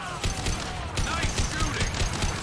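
Rapid automatic gunfire in the video game Mass Effect 2, a dense steady stream of shots at close range, with faint voices underneath.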